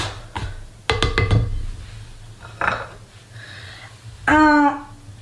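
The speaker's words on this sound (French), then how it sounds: "On mélange pour que le sel ne soit pas en contact direct avec la levure" Salt is mixed into yeast and flour in a bowl for bread, heard as a few sharp clinks and scrapes of a utensil against the bowl with quiet pauses and a brief rub between them.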